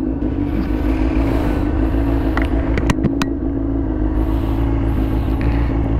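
A 2018 Honda CBR 600 RR fitted with its standard exhaust idles close by, a steady low rumbling drone with a few brief sharp ticks partway through and no talking.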